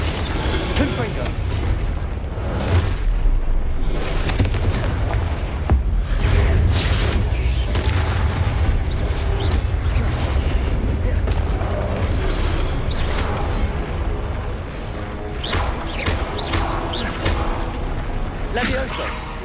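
Confringo fire spell explosions in Hogwarts Legacy combat, a dense run of booming blasts and crackling bursts over constant rumbling battle noise, with shouted spell incantations throughout.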